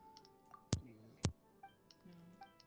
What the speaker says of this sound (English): Oh, BMO did a clicking noise.